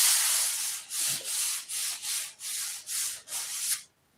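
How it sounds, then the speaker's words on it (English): Sandpaper rubs over a thin coated wood surface in about eight rhythmic back-and-forth strokes, a close, raspy scratch that pulses in even bursts before stopping. "first time it really sounded like sandpaper"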